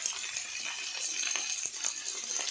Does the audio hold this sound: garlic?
yes